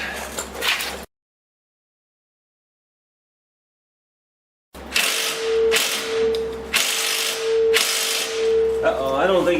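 A wrench fitted with a swivel ratchets against a bolt on a 2009 Polaris Ranger during rear bushing work: after a silent gap come repeated rasping clicks in close bursts, with a steady whine underneath.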